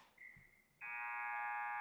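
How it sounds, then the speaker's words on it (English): At the Winston-Salem Fairgrounds Arena, a steady electronic tone gives way to the loud final buzzer ending a period, a harsh sustained blare that holds without a break. "As there's the final buzzer."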